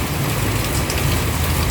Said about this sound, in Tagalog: Parang maghapon na itong ganitong ulan.